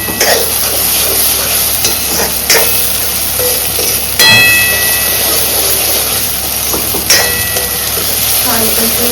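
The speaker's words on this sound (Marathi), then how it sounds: "कांदा, टोमॅटो, कढीपत्ता हे परतून घेतले आणि आता आलं लसूण पेस्ट घातली आहे" Onion, tomato, curry leaves and ginger garlic paste sauté in oil for pav bhaji. A loud, close sizzle is punctuated by a few sharp spatula knocks and scrapes against the pan.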